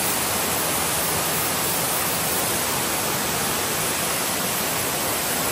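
Strong mountain stream at Shek Mun Kap on Lantau Island in spring, rushing water as a dense, steady roar that fills the whole clip close to the listener, with no voices.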